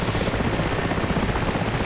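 Video game helicopter with a steady, loud rotor and engine drone, a dense rumble with no change over the short stretch and no voices.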